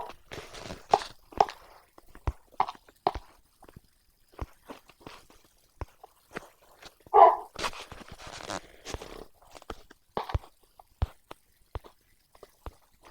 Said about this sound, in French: Les chiens.